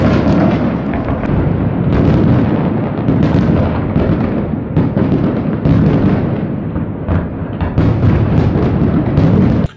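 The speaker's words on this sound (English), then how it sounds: "if you've ever been to a country and there's a shortage of fireworks, and I tell you what, they're all in Dubai" The nightly fireworks display over Dubai sets off a loud, continuous barrage of booming bursts and crackling pops that overlap without pause, with no voices heard.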